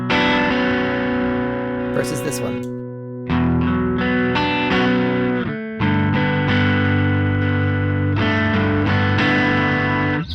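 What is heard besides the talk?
guitar through Beetronics Wannabee overdrive paralleled with Klon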